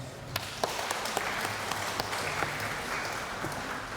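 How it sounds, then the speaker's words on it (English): A church congregation at Sunday Mass claps hands together, a steady ragged patter of many claps in a reverberant hall, moderately loud and continuous. "If you are happy, let's clap our hands."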